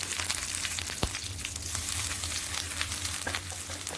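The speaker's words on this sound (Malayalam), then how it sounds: "കടുക് നന്നായിട്ട് പൊട്ടിക്കഴിയുമ്പോഴത്തേക്ക് ഇതിലേക്ക് വറ്റൽമുളക് 2 വറ്റൽമുളകാണ് ഞാൻ എടുത്തിരിക്കുന്നത്." Mustard seeds, dried red chillies and curry leaves frying in hot oil, a dense continuous crackling sizzle with a sharp pop near the start and steady spitting throughout.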